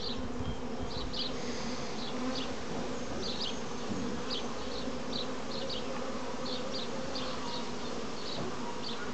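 Honeybees buzz continuously in a dense, steady drone close by at an open hive in April, with individual bees and drones whining past now and then.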